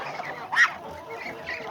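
Poultry in a farmyard gives one short honking call, fairly close, against a quiet outdoor background.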